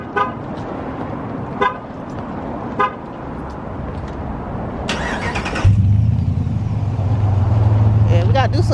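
A 2020 Dodge Ram 1500 Limited Edition pickup cranks and its engine catches with a loud, deep rumble that settles into a steady idle, after a few short horn-like beeps, with people talking nearby throughout.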